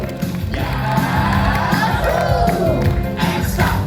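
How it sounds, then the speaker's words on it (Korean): An audience at a kindergarten recital claps and cheers in a continuous crowd roar. Shouts and whoops rise out of the applause and a voice speaks over the noise. "자, 다시 한번 힘찬 박수!"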